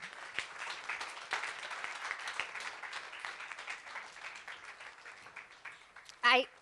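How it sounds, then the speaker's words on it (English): An audience applauds the author of a story at a staged dramatized enactment, a moderate, steady patter of clapping over several seconds, ending in a brief louder burst. "Let's have a big round of applause for him."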